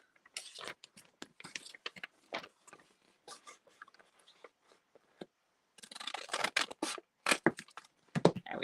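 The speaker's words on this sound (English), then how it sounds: "Now, I'm going to pull out my big scissors here" Big scissors cutting through an adhesive sheet, heard as close, quiet bursts of snipping and crinkling in irregular clusters separated by short pauses.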